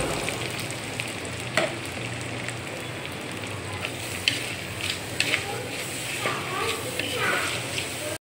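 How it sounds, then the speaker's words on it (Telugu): Sliced onions tossed into hot oil in a clay pot for a spicy egg curry give a continuous close sizzle with scattered pops and stirring clicks. "ఆయిల్ కాగిపోయిందని గుడిమైతే వేసేసుకున్నాను. 1 కప్పు ఆనియన్స్ అయితే వేసేసుకుంటున్నాను."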